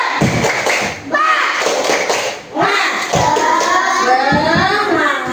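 Students in a classroom doing the rhythmic 'tepuk semangat' clapping chant: sharp, patterned group claps mixed with children's chanting voices, loud and close, with brief pauses between phrases.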